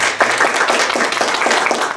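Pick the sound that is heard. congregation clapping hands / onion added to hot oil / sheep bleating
congregation clapping hands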